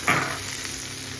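Maggi noodles fry with soy sauce and masala in a kadai, giving a steady, close sizzle and a brief scrape of stirring at the start.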